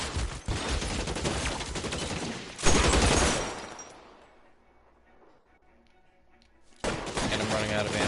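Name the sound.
gunfire from a gun in the video game LA Noire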